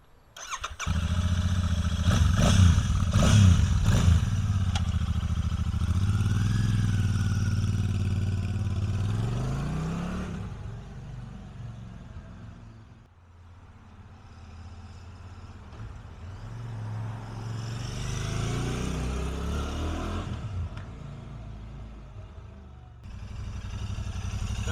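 A Royal Enfield Shotgun 650 motorcycle with factory exhaust starts up and revs loudly nearby, then rides laps around a building, its engine fading and swelling again as it passes.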